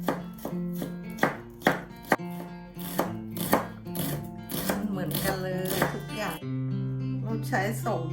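A knife chops a garlic clove on a cutting board in steady, rapid strikes, with someone talking over the chopping and a background tone running throughout.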